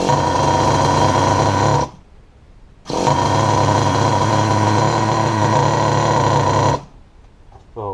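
A Traxxas Jato RC nitro engine runs close and loud with a steady, buzzing high-pitched drone, cuts out briefly, then resumes for several seconds before stopping again.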